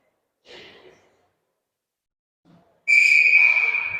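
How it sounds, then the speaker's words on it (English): A referee's whistle blows once at an ice hockey game during a late-game stoppage, a loud, shrill sustained blast lasting over a second after a brief breathy sound and near silence. "The referee blows the whistle"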